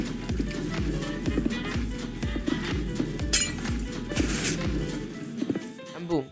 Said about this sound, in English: just encase this in glass